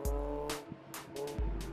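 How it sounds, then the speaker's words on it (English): A car accelerates hard on an autocross course, a close engine roar with rising revs cut by quick gear-change dips, heard alone in a short burst. "Hard on the power, through skid pad corner, around the gate turn"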